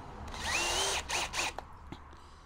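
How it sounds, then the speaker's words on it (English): Power drill with a countersink bit opening up a hole in a cast part for a 1/6 scale Armortek M26 Pershing RC tank, whirring in two or three close, loud bursts of about a second each with grinding cuts. "I'm going to use a countersunk piece, a drill head like this, and just open up"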